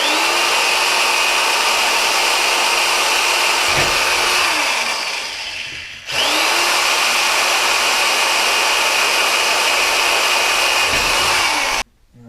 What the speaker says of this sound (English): I'm gonna go ahead and drill my holes here.